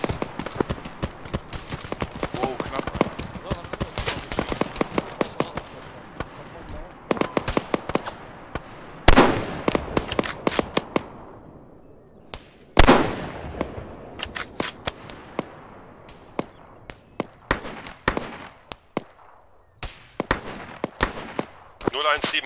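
Gunfire in the military game ArmA 3: sharp, close shots and rapid bursts come in clusters, some sudden and loud, while players talk over the radio.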